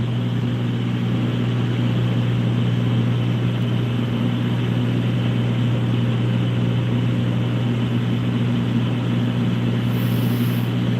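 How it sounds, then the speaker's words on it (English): Cessna 182 engine in the Prepar3D flight simulator, a steady droning propeller hum held at one level throughout, continuous and unchanging with no voices. "That is a Cessna 182."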